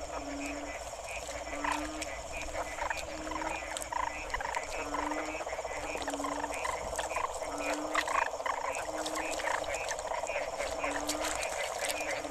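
Large frogs croaking in the rainy season, a regular, repeating series of close croaks over a dense chorus of other frogs and insects, continuing steadily throughout.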